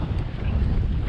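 Wind buffets a microphone at Fowlers Bay, making a low, rumbling roar that fills the whole brief moment. Faint wash from the bay water sits underneath.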